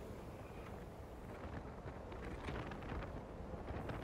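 Steady wind roaring against the sea wall at Sangatte on the French coast, a continuous broadband rush with gusts swelling louder toward the end, buffeting the microphone with no voices.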